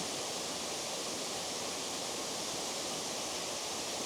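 Tianna Falls waterfall, a constant, soft broadband rush of falling water heard from a short distance, even and unbroken, with no talking.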